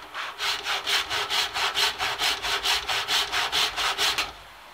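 A hand saw cuts a wooden plank along a marked line at 90 degrees for gutter-fixing blocks, with about seventeen quick, even back-and-forth strokes, close and loud, then it stops abruptly.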